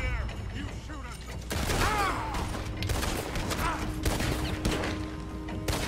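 Gunfire in the western video game Red Dead Redemption 2, loud overlapping shots and sharp cracks over a busy mix of creaks and mechanical clatter, with voices speaking in between.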